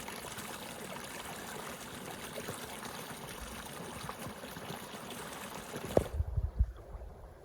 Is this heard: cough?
no